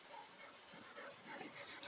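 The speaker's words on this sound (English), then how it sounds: "just sanding back the lacquer a little bit" Steady, faint rubbing and rasping of hand wet sanding lacquer on a car's paint, a soft repeated scrubbing stroke with a slightly wet, gritty texture.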